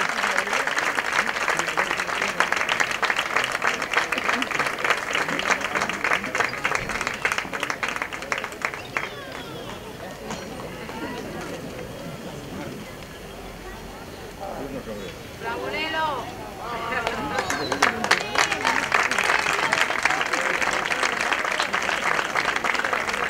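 An audience applauds to welcome Carmelo Trujillo, a local hairdresser, onto a stage at a recognition event. Thick, rapid clapping swells, dips to a murmur with voices in the middle, then surges again strongly at the end.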